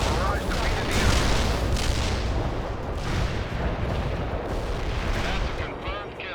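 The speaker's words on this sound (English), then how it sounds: "Barrage defeated the enemy." A dense, continuous artillery barrage in the war game World in Conflict, with heavy overlapping booms rumbling loud and unbroken throughout.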